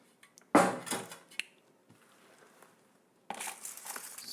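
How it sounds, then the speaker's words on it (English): Miracle-Gro indoor potting mix being added into a terracotta pot: gritty scraping and rustling pours in short bursts, close and moderately loud, with a quiet pause between them. "So I'm just going to add a little bit of soil"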